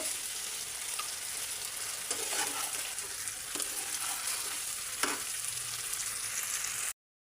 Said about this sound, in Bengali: গ্যাসে রান্না করে নিচ্ছি, আর একটু ভাজা ভাজা করে নেব।